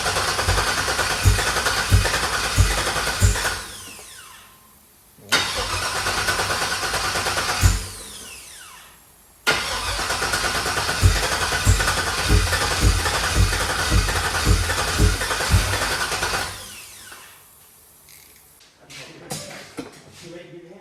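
A freshly LS-swapped V8 engine cranking and firing for its first start, running in rough loud bursts with pauses between attempts, with voices talking over the engine noise.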